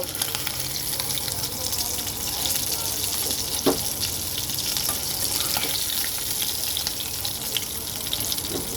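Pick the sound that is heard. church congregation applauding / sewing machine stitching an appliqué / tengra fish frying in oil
tengra fish frying in oil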